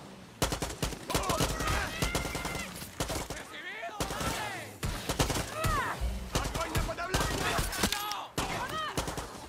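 Dense gunfire in the video game Far Cry 6: rapid overlapping bursts and single shots in a nearly continuous barrage, with someone talking loudly over the shooting.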